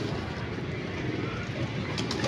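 A caged pigeon coos in low, repeated soft calls close by, over a steady background hum with a few faint higher clicks near the end.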